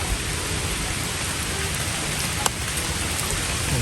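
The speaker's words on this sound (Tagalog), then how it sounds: "Naulan na po ngayon." Rain falls outdoors beside a river, a steady, dense hiss of drops on surrounding leaves and surfaces, unbroken and fairly loud throughout.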